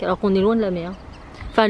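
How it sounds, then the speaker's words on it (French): Ducks by a lake quack in a nasal, wavering call near the start and again at the end, while people talk in French over them. "Ah si, c'est des canards, mais il y a tout."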